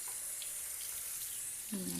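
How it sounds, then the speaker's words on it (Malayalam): Water runs steadily from a pull-out kitchen sink faucet during washing, a constant close hiss, with a brief sizzle-like tone near the end. "ഈ പൈപ്പ് ഇങ്ങനെ തിരിക്കാനും വലിക്കാനും ഒക്കെ പറ്റണതായതുകൊണ്ട് സുഖമാണ് കഴുകാൻ"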